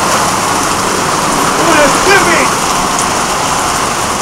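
Rain falls steadily on a green roof and garden, making a loud, continuous hiss with a faint voice briefly audible underneath.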